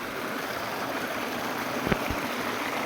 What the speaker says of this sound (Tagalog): Dito po kami sa ilog.